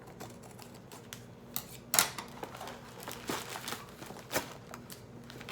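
Scissors cutting through tape on a mailing envelope, a few sharp snips and crinkly rustles scattered over several seconds, quiet and close with no talking.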